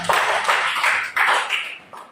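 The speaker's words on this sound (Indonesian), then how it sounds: "Tepuk tangan dong buat semua." A group of people claps together in a classroom, a dense burst of hand claps that surges in a few waves and then tapers off over about two seconds.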